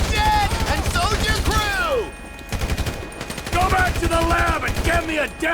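Rapid bursts of gunfire in GTA 5, dense automatic fire mixed with single shots, loud and close, running under overlapping voices and game dialogue throughout.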